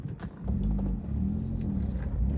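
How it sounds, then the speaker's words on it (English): Steady low engine rumble fills the cabin of a Honda CR-Z manual hatchback on the road, a continuous drone with faint road noise, heard from inside and unbroken by talk. "let's take the Honda for a drive"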